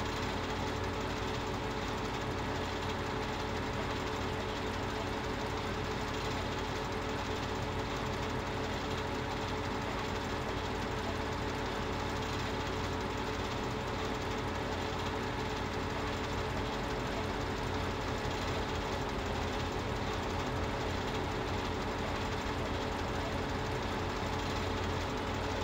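A tractor engine in Farming Simulator 2015 drones with a steady, low, continuous rumble on a farm field, holding a fairly even level throughout as it draws nearer, with no talk over it.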